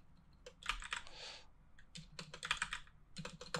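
Close, quiet typing on a computer keyboard in irregular bursts of rapid key clicks with short pauses between them, with no talking over it.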